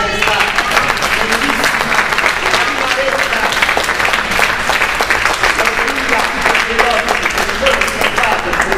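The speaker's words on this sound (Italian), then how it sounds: "facciamo un applauso" Sustained applause from a theater audience at a choir concert, dense and loud hand-clapping for the whole stretch with faint voices underneath.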